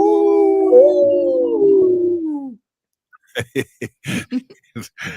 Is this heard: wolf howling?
yes